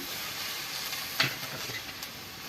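A cabbage fritter mixture with chopped green chili is stirred in a pan, a soft steady sizzle with one brief scraping stir near the middle, quiet and without voices.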